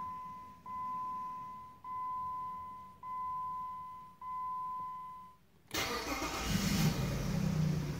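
Jeep WK 3.7L V6 engine cranking in four rhythmic starter bursts with a steady whine, then catching and firing into a louder, rougher running idle, close by with no talk.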